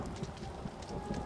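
Distant horse hooves clip-clopping in a steady rhythm, from The Seance of Blake Manor video game, heard faintly under a continuous rain-like wash of noise.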